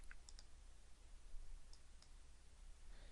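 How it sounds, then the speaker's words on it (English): A handful of faint, sharp mouse clicks, irregularly spaced, over a quiet background hiss. "Now I am clicking on the Response tab"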